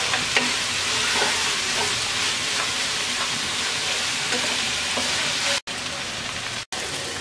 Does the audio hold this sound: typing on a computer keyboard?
no